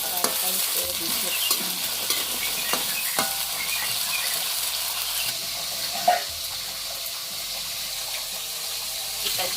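Chili peppers frying in hot oil for a green sambal, a continuous bright sizzle with occasional stirring clatters and a few pops, close and steady, with a brief voice at one point.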